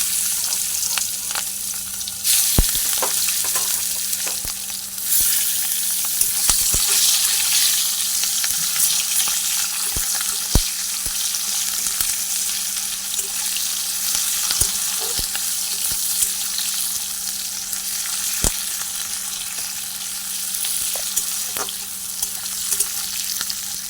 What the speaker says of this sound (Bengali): দেখো কেটে রাখা পেঁয়াজটা দিয়ে দিচ্ছি